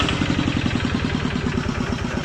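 A Magnum 155 Plus diesel engine runs steadily close by, a rapid, even chugging idle with a continuous rhythmic knock and no voices.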